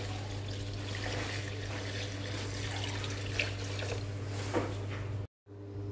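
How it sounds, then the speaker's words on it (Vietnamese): About a liter of water is poured into a pot for fish cake soup, a faint steady splashing stream that cuts off abruptly near the end. "Cuối cùng đổ khoảng 1 lít nước vào."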